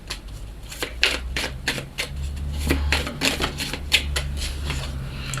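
Tarot cards being cut and shuffled by hand, close up, giving a run of crisp irregular riffling snaps and taps over a low steady background hum.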